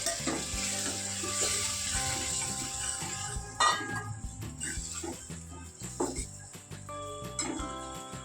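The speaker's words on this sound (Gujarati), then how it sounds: "પછી એમાં વાલ નાખી દેવાના।" Val beans (field beans) tipped into a pan of cooking Gujarati curry and sizzling, a steady close frying hiss with stirring clatter, alone without talk.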